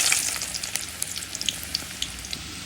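Garlic hits hot oil in a pan, a close, bright sizzle with dense popping crackles throughout the short burst, heard alone.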